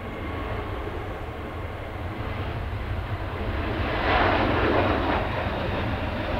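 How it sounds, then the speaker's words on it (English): A Turkish Airlines Airbus A321neo passenger jet at Manchester Airport roars steadily and loudly, its broad engine noise swelling slightly midway as it passes close by, with no voices. "this plane's a Turkish Airlines Airbus A321neo that's going to"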